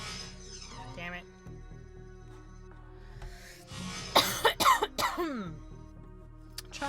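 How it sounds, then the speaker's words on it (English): Several sharp coughs in a quick burst, close to the microphone, over a steady background hum with some faint electronic sounds. "Trying not to cough into the microphone this time."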